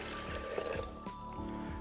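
Water pours and splashes into a kettle, a steady gurgling flow with small bubbly fluctuations, close and fairly quiet, with no talk.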